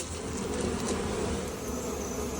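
A dense swarm of bees buzzing in an opened hive, a continuous loud close droning hum with no pauses, no voices.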